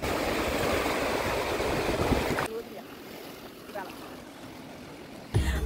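Seawater surging at the shore around people sitting at the water's edge, a loud steady wash of waves that drops away halfway through and then swells back at the end, with no one talking over it.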